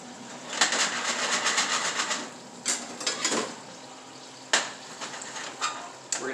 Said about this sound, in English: We're going to stir this up, heat it up.